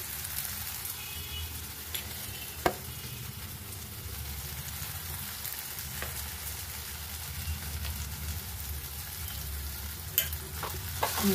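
Banana flower (mocha) tipped into a hot frying pan and stirred while cooking a vegetarian Bengali dish, giving a steady close sizzle and fry with scraping stir strokes and a few sharp clinks throughout.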